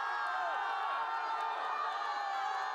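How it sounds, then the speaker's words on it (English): A large street-protest crowd near a university cheers with dense, sustained shouting and whooping. The roar is loud and continuous, with individual voices rising out of the mass. "When they saw our camera, the crowds cheered."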